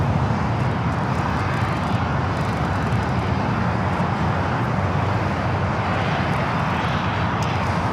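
Steady, loud roar of jet airliner engines at Los Angeles International Airport, a continuous broadband rumble holding for the whole stretch with a Frontier A320neo-type jet readying for takeoff, no voices over it.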